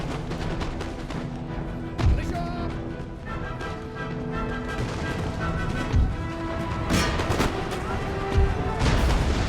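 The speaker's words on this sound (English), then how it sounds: "stop those cannons from firing" Cannon and artillery volleys from a battle in the strategy game Empire: Total War, with sharp booms and crackling gunfire at irregular intervals over a dense, constant din of battle and music.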